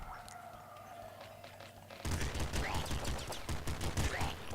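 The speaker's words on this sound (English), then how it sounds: "Really like the machine gun actually." Rapid automatic gunfire from a machine gun in the top-down shooter Nuclear Throne, a dense, loud burst of repeated shots that kicks in sharply midway after a quieter stretch of game ambience.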